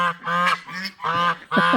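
Several pet birds, including a goose-like honking bird, call loudly indoors in four harsh, honking bursts, close and alone with no talking.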